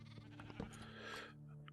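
Sheep bleat in the video game TerraFirmaCraft, a short wavering call followed by softer bleats, fairly quiet against a faint background.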